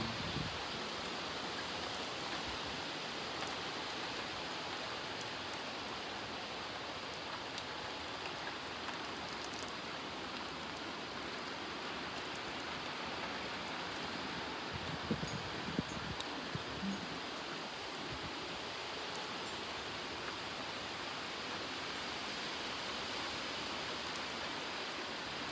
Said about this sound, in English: Ooh, those are big raindrops.